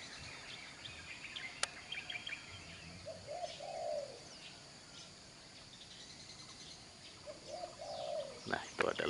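Birds chirping faintly over a steady noisy background near Merapi volcano, with two soft dove coos several seconds apart and a few distant tweets, no talking.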